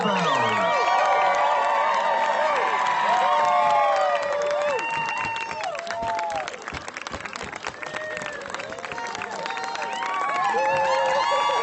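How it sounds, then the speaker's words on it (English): Outdoor audience at a Gatsby summer afternoon garden event applauding and cheering after a vintage-style band's number, steady clapping with whoops and shouts, mid-distance, lasting throughout. "yes, a nice round of applause, folks"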